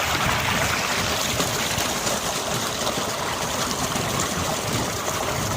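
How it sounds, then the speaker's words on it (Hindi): Water runs steadily from an outdoor tap into a bottle, a continuous broadband rush and splash held at an even level throughout, close to the listener with no talk over it. "बोतल था मेरी बोतल, इसे भर के ले जाऊँगा अभी।"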